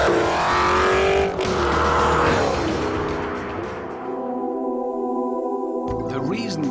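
A Veritas RS3 sports car accelerates hard with a loud, rising engine roar and a tire squeal early on, and a voice talks over the sound. The engine note climbs steadily, then settles to a high, even pitch as the car pulls away.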